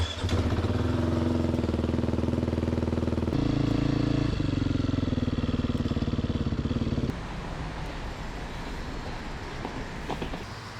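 Beta RR430 road-legal dirt bike ridden on a commute, its engine droning steadily and loudly throughout, with a gear change around the middle and a quieter, lower-pitched running note toward the end.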